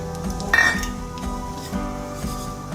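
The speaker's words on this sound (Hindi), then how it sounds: "अब हम इसमें हींग डाल देंगे" Asafoetida hits hot oil with roasted red chilies in a pan, giving a steady close sizzle with a brief clink of a utensil near the start.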